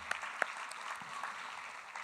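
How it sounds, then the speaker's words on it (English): Audience at an evening awards ceremony for a student poster contest applauding, a soft, fairly distant patter of clapping with a couple of sharper claps standing out. "Let's give them a round of applause."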